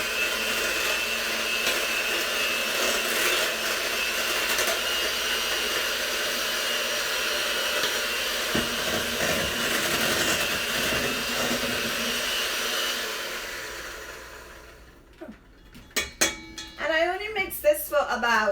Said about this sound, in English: I have my mixer here that I'm going to just mix it around